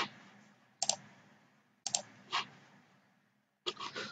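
Mouse clicks in a quiet room while downloading VirtualBox in a web browser, three or four sharp single clicks spaced about a second apart, close and fairly faint over low background hiss.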